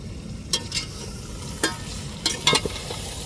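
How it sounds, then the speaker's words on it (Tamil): Chicken coated in masala for a large biryani batch, about one and a half kilos of meat, is stirred in a sizzling pot, with scraping spoon strokes in irregular bursts over a constant frying hiss. "இப்போ நல்லா அந்த மசாலாலாம் அந்த சிக்கனில் பிடிக்கணும் நல்லா கிளறி விட்டுக்கிடுவோம்"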